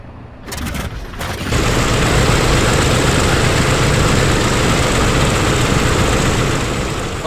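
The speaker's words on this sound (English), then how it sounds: "This is the original sound in Microsoft Flight Simulator with the DC engine starting." Douglas DC-6 piston engine starting in Microsoft Flight Simulator: a few clicks and turns, then a loud, steady, rumbling roar takes hold and runs on close and continuous with no voices.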